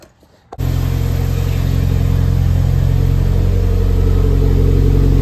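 A Mitsubishi Lancer Evo 9 engine with a newly fitted starter catches after a brief moment of quiet, then settles into a loud, steady, close-up idle with no voices.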